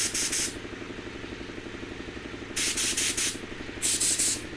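A spray gun paints metal flake over a silver base in three loud hissing bursts, and a steady air compressor runs throughout underneath.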